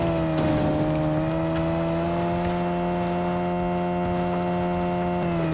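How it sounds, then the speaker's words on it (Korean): A Porsche's engine in a racing video game holds a steady, loud droning tone with a slight pitch shift near the end, continuous and without talking. "와 자동차 소리 시원하긴 하다 근데 좀 크네요"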